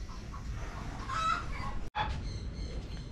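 A large chicken clucks a few times nearby against a low background hiss, with a brief break partway through.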